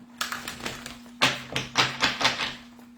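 Tarot cards being shuffled by hand, a series of quick papery riffling bursts and taps in a quiet room, close and moderately loud with a steady low hum beneath.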